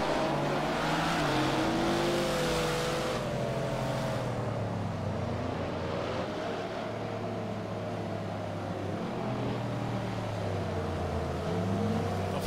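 A white Acura NSX race car in a Project Cars 2 replay at California Highway, its engine droning and revving steadily throughout with shifting pitch, loud and continuous with no talk.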